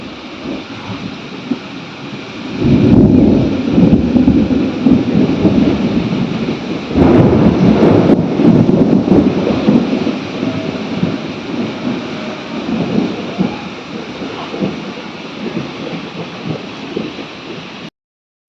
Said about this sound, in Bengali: আবার ঝড় শুরু হলো বলে উঠলাম, ঝিরঝির করে বৃষ্টি পড়ছে